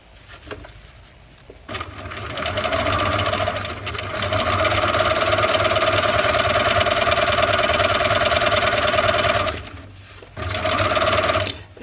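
A sewing machine runs steadily, stitching along the edge of fabric for a McCall's M7580 garment. It whirs continuously and close for about eight seconds, stops briefly, then starts again. No one talks.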